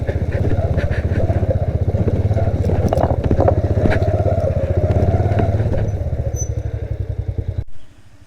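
A motorbike engine idles steadily and close by while the bike is being parked inside the small Noon Bangla bazaar near Muzaffarabad, its rapid putter running evenly before the engine cuts off abruptly.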